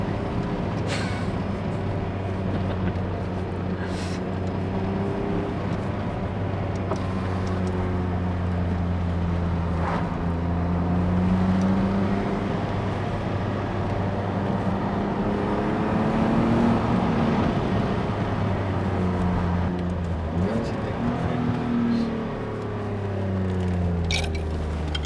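A BMW E34 525i drives along with a steady inline engine hum and road noise, engine pitch rising and falling gently through gear changes, with no voices.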